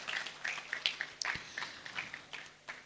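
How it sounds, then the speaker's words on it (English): Faint, scattered handclaps from an audience at a business luncheon greeting a panelist, with sparse distinct claps spread across a few seconds in a quiet room. "A round of applause for him, please."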